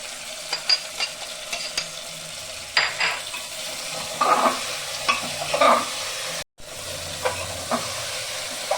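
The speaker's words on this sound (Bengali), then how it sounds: "উপরে তেল এসে গেছে, আর একটু কষাবো।" Chicken curry with spices being sautéed and stirred in a pressure cooker, with steady sizzling and frying plus repeated scraping strokes of a spoon against the pot, close and fairly loud, briefly cut to silence near the end.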